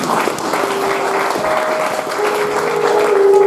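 Audience applause at a party show follows an act, a steady patter of many hands at moderate distance, with a faint sustained tone running beneath the clapping.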